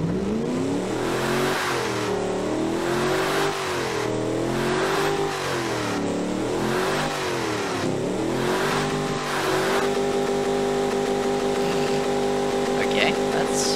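A twin-scroll turbocharged engine in the Automation car-building game revs repeatedly, its pitch rising and falling in loud waves before holding at a steady high drone.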